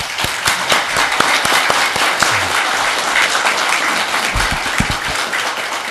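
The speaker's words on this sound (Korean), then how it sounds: "한번 박수 칠까요?" Congregation applauding at a church worship service after a choir's hymn, a full steady round of clapping with scattered sharper claps, lasting several seconds.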